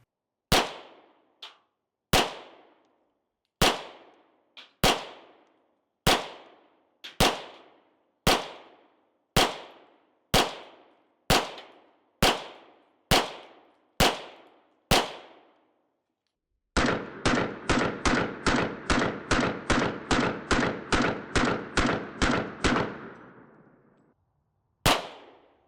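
A suppressed Ruger 57 pistol fires about fifteen sharp single shots at a steady pace, then a fast string of about twenty rapid shots. A final lone shot follows, all loud and close.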